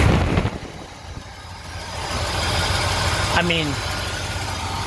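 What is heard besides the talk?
Cadillac 472 car engine idling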